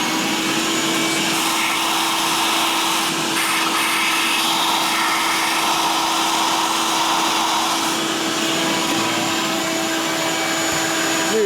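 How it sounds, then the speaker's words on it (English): Shop vacuum drawing metal chips out of a machined exhaust port on a 1977 Shovelhead cylinder head, a loud steady whine with a constant tone that runs the whole time, with no talk over it. "plug up the back of the hole, the vacuum increases out of the hole, so it sucks the chips out"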